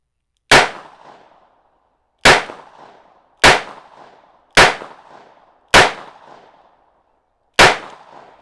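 A Smith and Wesson Model 30 hand ejector revolver fires six double-action shots, each a sharp loud crack with a short decaying tail, spaced unevenly about one to two seconds apart with silence between.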